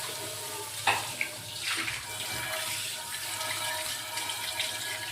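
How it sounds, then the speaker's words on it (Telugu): Water is poured onto a non-stick dosa pan to wash it, a quiet, continuous running and sloshing with a couple of faint clinks near the start. "ఇప్పుడు వాటర్ పోసేసి ఇలా కడిగేయండి."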